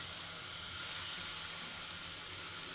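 Grated ridge gourd dropped into a hot pan for a dry vegetable dish, giving a steady, broad hissing sizzle that carries on evenly throughout.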